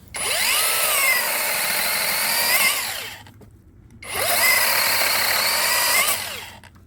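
A cordless electric saw cuts through garden wood in two loud, sustained passes of about three seconds each, separated by a brief near-silent pause.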